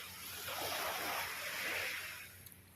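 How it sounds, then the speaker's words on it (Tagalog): Large ocean waves at a beach in Linao, a broad steady wash of surf that swells and recedes over a couple of seconds, moderately loud with no talk. "Malaking mga alon, di katulad yung nakaraan na araw."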